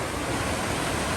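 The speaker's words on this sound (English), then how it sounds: "this might be the ford of Thunder River. Wow. That's quick water." Fast-flowing water at the Thunder River ford, a loud dense rushing wash that stays steady and close throughout the brief moment.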